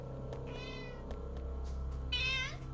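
A house cat meows twice close by, a short call early and a louder, longer one near the end, over a steady low hum of a computer room with no talk.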